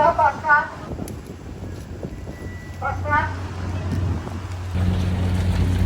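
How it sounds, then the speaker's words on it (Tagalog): Steady wind rushes and buffets the microphone over a low engine rumble, with a voice speaking briefly at times. "Lakas ng hangin."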